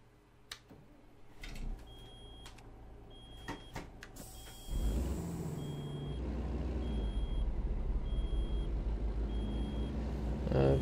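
Repeated evenly spaced electronic beeping of a truck's low air pressure warning, heard inside the cab over a steady engine rumble that swells as the rig pulls away, with a few clunks and a hiss early on.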